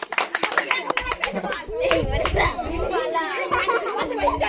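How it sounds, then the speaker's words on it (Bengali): A group of people outdoors gives a short round of clapping, loose rapid handclaps mixed with lively chatter and a bit of laughter, continuing under overlapping voices. "হাত তালি একবার"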